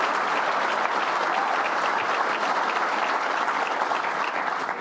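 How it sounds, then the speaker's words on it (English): A luncheon audience at a country club applauding a governor's remarks, a thick continuous roar of many hands clapping close and loud at steady level, with no speech over it. "let's give them a big round of applause for everything they did and how effective they were"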